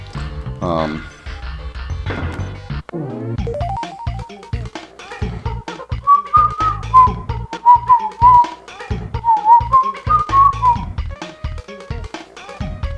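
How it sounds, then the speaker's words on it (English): A bright, chiptune-style victory jingle from Donkey Kong Country 2 bounces along over punchy rhythmic hits, loud and upbeat, ending in a short flourish. "That's the sound of victory."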